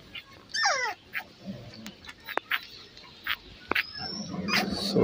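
A female Shih tzu puppy gives a few high, thin whimpering yelps near the start and again around four seconds, close and fairly soft against quiet indoor background noise.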